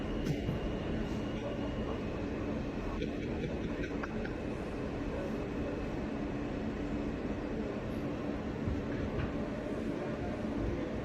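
A New York City subway train rumbles steadily for about eleven seconds, a dense, unbroken low roar with faint metallic squeals and clatters on top.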